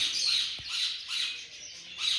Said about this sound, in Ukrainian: зупинилися на какарику, що є папугою з нової Зеландії, з такого чудового жовтого кольору